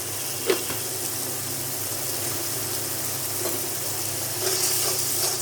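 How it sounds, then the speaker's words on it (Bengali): Spices sautéing in a pan for a rohu fish curry with pointed gourd, a steady close sizzle and frying hiss throughout, with a few faint stirring clinks. "এখন মশলাটা ভালো করে কষানো হোক"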